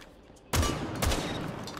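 Buckshot shotgun fire in Rainbow Six Siege: two loud, close blasts about half a second apart, each a sharp crack with a booming low end and a lingering tail.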